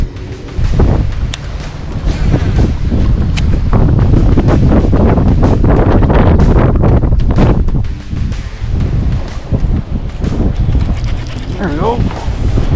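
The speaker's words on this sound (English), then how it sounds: "Wow, this wind is just ripping. Can you guys hear it?" Strong wind roars across the microphone on a fishing boat, a loud, continuous buffeting rumble with gusty surges and faint mechanical clicks and rustles underneath.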